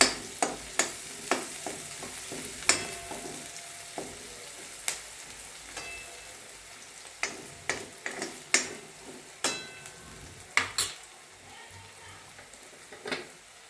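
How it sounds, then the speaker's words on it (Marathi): Chopped onion sautéing in a pan over a raised gas flame while being browned for a fried okra dish, a steady close sizzle broken by frequent sharp clicks and scrapes of a spoon stirring against the pan. "कांदा छान परतून घ्यायचा, जरा तांबूस परतायचा।"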